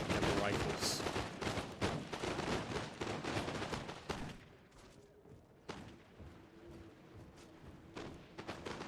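Musket volleys from a Total War Shogun 2 battle crackle densely and loudly for about four seconds, then thin out to scattered, more distant shots over a low battlefield rumble.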